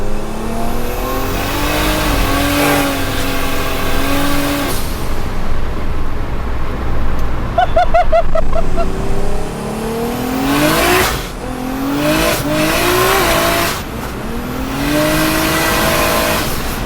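A 600 hp Toyota Hilux pickup, lowered on steel wheels, with a swapped 1JZ engine and big turbo, pulls hard from first gear, engine note rising and dropping through several gear changes, loud and close with turbo hiss.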